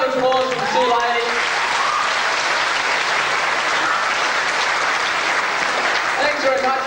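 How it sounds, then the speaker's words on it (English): Sustained applause from a school farewell audience greeting two female teachers, dense steady clapping throughout with a voice speaking over it at the start and again near the end. "Round of applause for the 2 ladies."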